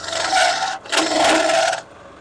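A woodturning gouge cuts into spinning wood on a lathe, two loud, close, rasping scrapes with a brief gap between them, then fading.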